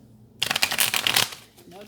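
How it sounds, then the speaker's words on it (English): A small deck of playing cards is shuffled once, a dense close riffle of rapid crisp flutters lasting about a second, followed by a quiet pause. "I'll have these shuffled in a jiffy, right? Especially the smaller deck is easier to shuffle."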